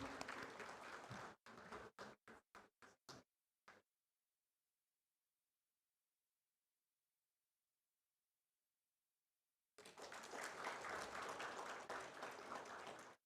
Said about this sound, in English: We can clap for him, please.